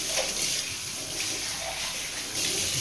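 Tap water running to rinse a used mixer grinder jar in a home kitchen, a steady hissing splash with small changes in flow, close and continuous without speech.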